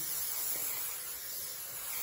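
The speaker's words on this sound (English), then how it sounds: "I'm going to use this 3M Super 77 multi-purpose adhesive." Close, steady hiss of a 3M Super 77 multi-purpose adhesive aerosol can spraying onto a plastic sheet, a bright continuous rush that holds evenly for a couple of seconds.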